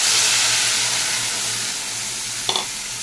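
Spice paste of turmeric and chili powder soaked in water sizzles hard in a hot pan, a loud steady hiss that eases slightly, with one short clink near the end.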